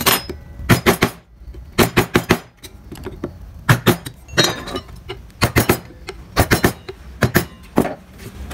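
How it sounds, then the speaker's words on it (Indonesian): A gouge chisel struck repeatedly into carved wood while shaping it, giving sharp, close tapping knocks in irregular clusters of two to four, with brief pauses between bursts and no talking. "Di bagian sebelah sini dan sini kita bentuk menggunakan pahat kol."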